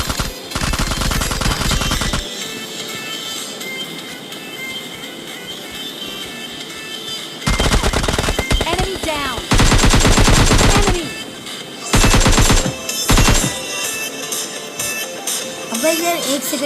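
Automatic gunfire in the mobile shooter PUBG Mobile Lite comes in several loud, rapid bursts separated by quieter gaps, and someone talks between the bursts.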